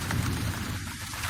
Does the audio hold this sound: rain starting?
yes